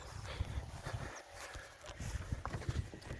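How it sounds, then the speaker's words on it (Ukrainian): Hooves of a draft mare clopping at a slow walking pace on a hard surface, with soft creaks and rattles of a cart, fairly close. "Зараз ще покажу, як того кобила йде в возі файно."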